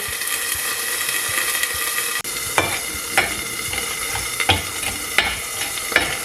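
Mixed berry jam sauce cooks in a pan on low heat, a steady sizzle with several sharp stirring scrapes and clinks, close and fairly loud with no talking.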